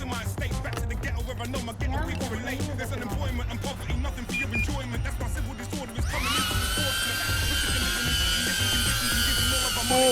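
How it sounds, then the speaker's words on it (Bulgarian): A drone switches on, and its high, whining rotor hum starts abruptly partway through and holds steady over a busy outdoor background with chatter. "Стой само да включа дрона първо."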